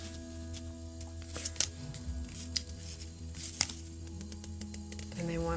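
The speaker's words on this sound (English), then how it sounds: "Almost started shuffling them." Slippery silver-edged Mary El tarot cards being shuffled and handled, giving soft irregular riffles and snaps over a low background hum.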